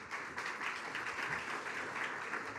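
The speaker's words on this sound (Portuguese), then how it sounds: "Uma salva de palmas também." Audience applause at the opening of a mass litigation forum, a steady, fairly faint wash of clapping from a crowd with no voices.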